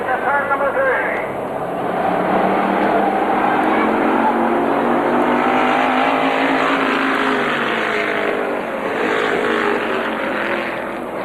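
Oldsmobile and Buick stock cars race around an oval at Airborne Raceway in 1990, their engines roaring loudly as they sweep into a turn, with an announcer calling the race over them.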